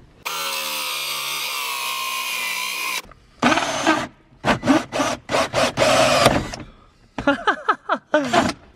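Hole saw cutting into a car dashboard: a sustained loud whirring drill run, then repeated short bursts of grinding cutting as the saw bites, close up.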